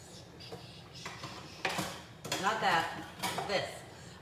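A metal ladle scrapes and clanks against a pot of Mexican soup, with several close, bright knocks and stirring scrapes, louder toward the end.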